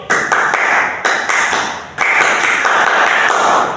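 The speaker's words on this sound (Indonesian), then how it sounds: "Tepuk tiga kali." A class of schoolchildren clapping hands together in unison, loud and close, in several sharp bursts with brief pauses between them.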